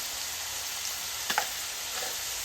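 Ridge gourd with chilli powder, coriander powder, black masala and salt sizzles steadily in hot oil, a soft continuous fry with a couple of faint stirring clinks near the middle.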